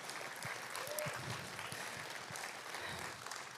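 Audience applause at a livestreamed conference, a moderate steady patter of clapping heard at some distance, with a faint voice underneath.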